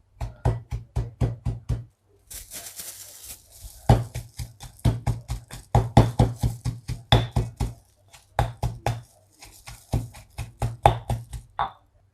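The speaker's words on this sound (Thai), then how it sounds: "โขลกไปจนละเอียดเลยนะคะ" Ingredients pounded with salt in a stone mortar and pestle for a Thai stir-fried chicken dish, rapid rhythmic thuds in bursts of several strikes with short pauses between, close and crisp, no talking.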